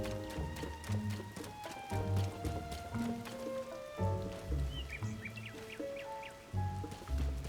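Rain in the video game Zelda: Tears of the Kingdom, a steady patter mixed with soft game music tones and occasional chirpy calls, continuous at moderate level without speech.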